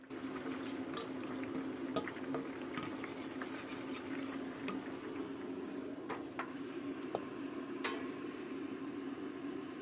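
Ginger slices frying in oil for a Sichuan hot pot base, a soft steady bubbling sizzle with light crackles and a few sharp clinks of a utensil against the pan, fairly quiet throughout.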